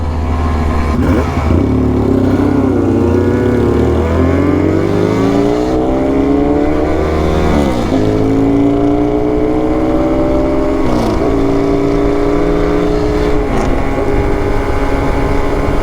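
A motorcycle engine drones steadily close by as it rides down the road, its pitch rising and falling as it accelerates and shifts gears, with no talking.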